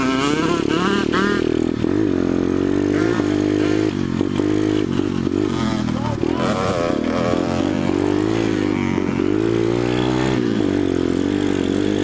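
A Yamaha YZ80 pit bike revs hard up a short dirt hill climb, its two-stroke engine loud and close, pitch rising and falling as the throttle is worked with a wheelie.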